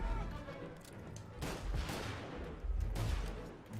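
Gunfire in the video game Mafia Definitive Edition, with bursts of shots striking near the player in a firefight, loud and dense with two heavier volleys.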